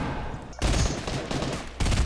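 Rapid gunfire in the video game Fortnite, loud bursts of fusillade-like shots after a brief lull, repeating in dense clusters across the moment with no clear talk over them.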